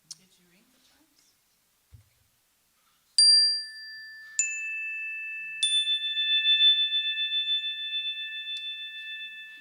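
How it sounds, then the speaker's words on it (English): Chimes rung at a worship service, three bright metallic strikes a second or so apart, each ringing on with a long, clear, slowly fading sustain in a quiet room. "Did you ring the chimes?"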